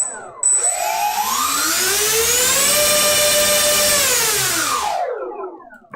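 A small model airplane engine is run at full throttle, its high-pitched whine climbing sharply, holding loud and steady for several seconds, then winding down.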